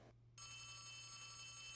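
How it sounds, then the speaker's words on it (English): A telephone rings in the Poppy Playtime video game, a steady electronic bell tone that kicks in after a brief gap and holds alone over a low hum. "The phone is ringing."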